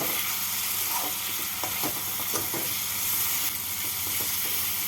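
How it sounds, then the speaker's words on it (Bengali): Grated coconut being stirred and fried with spices in a pan, a steady sizzle with scraping stir strokes, close and continuous, no talking. "কোরানো নারকেল নারকেলটাকে মশলার সাথে নাড়াচাড়া করে নেব"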